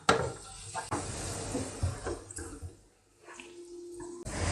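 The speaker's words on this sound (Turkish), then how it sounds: "Bezelye ve havucu güzelce karıştırıp yağın içinde ara sıra karıştırarak çok az kavuracağım." Peas and carrots being stirred in oil in a pan for meatball soup: close scraping and clinking of a utensil against the pan with light sizzle, in irregular strokes, quieter stretch midway and a faint steady tone near the end, no talk.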